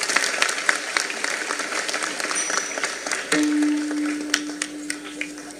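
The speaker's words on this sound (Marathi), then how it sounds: "टाळ्या वाजून स्वागत करा सगळेजण" An audience at a kirtan claps steadily to welcome a singer, a lively crowd applause with a sustained musical tone entering partway through.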